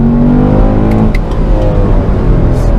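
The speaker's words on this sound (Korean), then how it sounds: "엔진 소리가 진짜 차 전체로 이렇게 쫙 하고 퍼지는데 이 소리가 정말 좋네요. 2단에서 이렇게 가속할 때" A loud, close 2017 Chevrolet Camaro SS engine revs steadily upward past 6,000 rpm under acceleration in second gear, a deep continuous roar with rising pitch and no speech.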